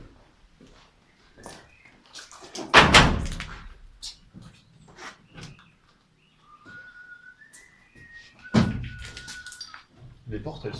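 Locked doors in an abandoned sanatorium are rattled and tried, giving two heavy dull thunks with clattering shakes several seconds apart, mixed with scattered knocks, footsteps and faint whistling in an echoing empty space.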